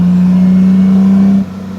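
A works Austin-Healey 3000 rally car engine, loud and close, holding a steady droning note before dropping abruptly as the revs fall during a heel-and-toe downshift.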